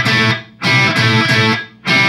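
A loud, distorted electric guitar chugs through a short repeating riff, with crisp bursts of chords separated by brief silent gaps.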